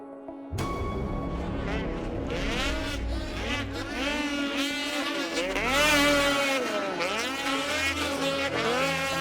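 Racing snowmobiles, Shearing Speed Sport sleds running in tandem at the front of a race, howl continuously with engine pitch rising and falling as they rev and pass, loud and steady throughout.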